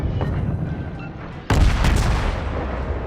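Warship main guns firing in World of Warships, one heavy booming salvo that erupts abruptly midway and rumbles on loudly over steady ship and sea noise.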